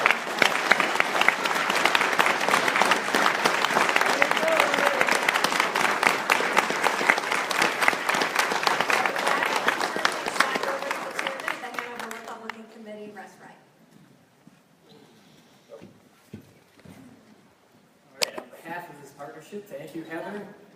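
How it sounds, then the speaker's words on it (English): A debate audience gives a big round of applause for both gubernatorial candidates, dense steady clapping for about twelve seconds before it fades out and a voice speaks. "how about another huge round of applause for both of our candidates?"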